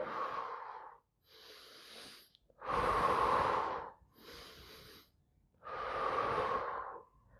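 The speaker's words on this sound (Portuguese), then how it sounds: "puxando o ar o máximo possível. E vou soltar o máximo possível." Deep breathing exercise for lower-back pain relief: slow, close, loud inhales and exhales alternate in long rhythmic breaths, air rushing audibly with each cycle and no talk.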